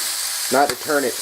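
Scrapple slices dropped into a hot pan on a stove at medium heat give a steady, close hiss of frying, with brief voiced sounds over it.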